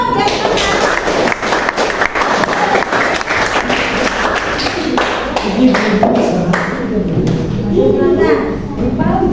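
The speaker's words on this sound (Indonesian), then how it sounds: "Kasih tepuk tangan dulu dong" Applause in a classroom as students welcome group 3 to present, dense continuous clapping with scattered voices and chatter mixed in throughout.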